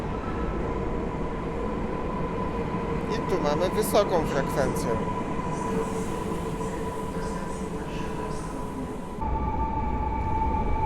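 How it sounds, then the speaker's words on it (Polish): A Newag Impuls 45WE electric multiple unit pulling two sets into a platform at Warszawa Centralna station, a steady rumbling roar with high squeals and tonal whines, someone briefly speaking over it. "Impuls Newak 45WE, dwie sztuki. I wjazd na tor przy peronie trzecim."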